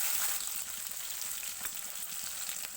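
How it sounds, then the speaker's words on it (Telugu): Cumin and mustard seeds spluttering in hot oil as a tempering for a tomato curry, giving a steady, close, continuous sizzle with no voices over it. "ఆయిల్ వేడిన తర్వాత ఒక స్పూన్ పోపు దినుసులు కొంచెం జీలకర్ర ఆవాలు"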